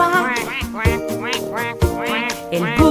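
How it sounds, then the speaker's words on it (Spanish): A cartoonish duck quacks in a children's animal-sounds song, with repeated quacks falling roughly once a second over sung musical backing, each call bright and nasal. "el pato hace cuac"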